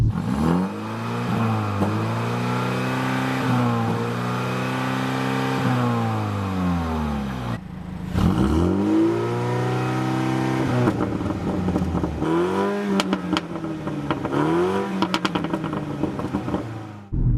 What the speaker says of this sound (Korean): 지속적으로 뒤에서 계속 좋은 그 우렁찬 배기 사운드가 남아있어서